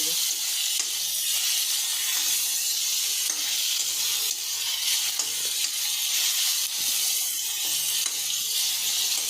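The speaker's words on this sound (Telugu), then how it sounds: "ఉల్లిపాయ వేగనివ్వాలండి కొద్దిగా." Onion for pasta fries in a pan with a steady close sizzle and hiss, punctuated by soft stirring scrapes and faint clinks, no speech.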